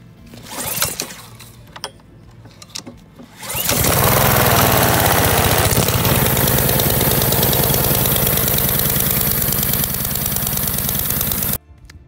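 A Ryobi 3300 PSI 2.3 GPM gas pressure washer engine is pulled and fires up, then runs at a loud, steady close drone for about eight seconds before cutting off abruptly, preceded by a few handling knocks.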